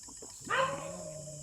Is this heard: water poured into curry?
no